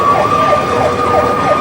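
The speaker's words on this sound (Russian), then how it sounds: "Пожарная поехала одна." A 1/87 scale model fire engine's siren wails as the small truck drives out on a call in a miniature Russia layout, a steady electronic tone rising and falling continuously over a busy background hum.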